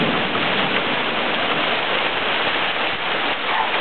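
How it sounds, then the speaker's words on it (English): Steady rain pours down during a thunderstorm in Pensacola, a continuous dense hiss of drops on surfaces, close and constant for the whole few seconds with no voices. "You can't even really see the rain in this video at all."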